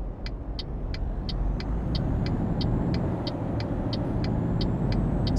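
A heavy truck in Euro Truck Simulator 2 pulling away with an air pressure tank load, a loud steady low engine rumble under a regular ticking indicator, no one talking.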